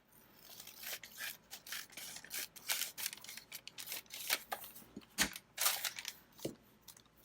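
Scissors snipping and rubbing through paper pieces for a journal, a steady run of close, dry cuts and scraping strokes with irregular rhythm and a few sharper snaps, no talking.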